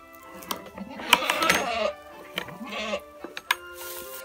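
Several goats on a spring farm with kids bleat in short, scattered calls, fairly close and moderately loud, with an occasional voice calling to them between the cries.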